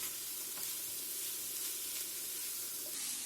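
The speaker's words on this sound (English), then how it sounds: "Toss this on high heat." Finely chopped cabbage, broccoli and French beans tossed on high heat, giving a steady bright sizzle and hiss with faint stirring scrapes, close and continuous with no talk.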